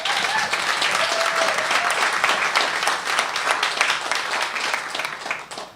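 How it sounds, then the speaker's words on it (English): Steady applause from an audience, many hands clapping together for several seconds before tapering off at the end. "So I want to give another round of applause to Ophelia, if you guys can join me"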